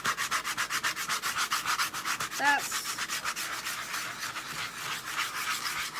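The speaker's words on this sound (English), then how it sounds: "So I have this fun little sanding block that I'm gonna use." Rhythmic scratchy rubbing of a sanding block on wood, quick regular back-and-forth strokes close up, with a brief spoken word partway through.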